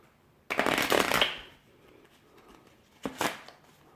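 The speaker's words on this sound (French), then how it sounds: "Le mélange américain est un peu plus spectaculaire. On prend le jeu de cartes comme ça." Riffle shuffles of a deck of playing cards, American style: one long riffling burst of about a second, then a second shorter riffle after a pause, close and fairly loud with no talk.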